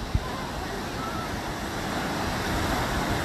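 Sea waves wash up onto a beach as a steady broadband surf wash, with wind buffeting the microphone and a brief thump near the start.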